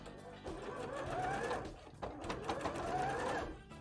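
A sewing machine stitching up close in two runs of steady whirring with a brief pause between, a faint voice murmuring alongside.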